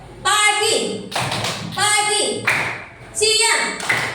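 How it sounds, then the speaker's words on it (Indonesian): In a classroom lesson, classmates clap for a student in short rattling bursts that alternate with a teacher's and children's speech, the clapping loud and close. "tepuk tangan buat Bilkis"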